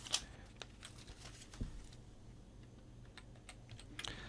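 Light clicking keystrokes on a computer keyboard as a discount code is entered, sparse and quiet with a few sharper taps scattered over several seconds.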